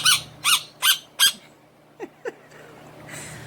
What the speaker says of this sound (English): I think Georgie is voicing her opinion on that.